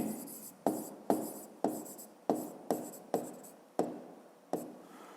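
A pen writes on paper in a quiet room, about ten short scratching strokes in an uneven rhythm, close and faint.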